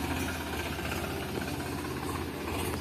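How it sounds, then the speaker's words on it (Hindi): A farm tractor's engine runs steadily nearby after starting, a continuous loud, rough chugging drone with a hissing edge and no other sounds. "और ये हमारा ट्रैक्टर स्टार्ट हो गया है।"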